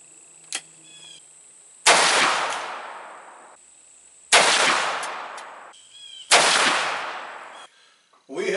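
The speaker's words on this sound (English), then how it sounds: "I'm going to shoot it one more time and check the zero" Three loud, sharp gunshots from a Ruger Old Army black powder pistol with a 14-inch barrel, each followed by a long decaying boom and echo, spaced a couple of seconds apart outdoors.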